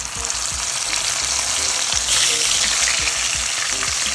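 Irish potato frying in a pan for a Jamaican fry-up, a loud, steady sizzle with light stirring and scraping knocks repeating underneath, close and continuous.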